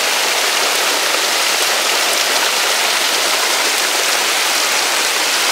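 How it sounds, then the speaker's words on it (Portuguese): Hailstorm in Embu das Artes, a loud, dense and continuous hiss of ice pellets pelting the ground and surfaces at close range, heard alone without talking. "Aproximadamente uns 6 minutos que está caindo gelo."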